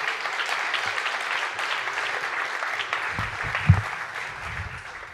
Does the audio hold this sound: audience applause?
yes